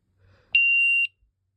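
A single steady high-pitched beep lasting about half a second comes from a Sky Link SC-001 security keypad's panic alarm, muffled but clear against near silence.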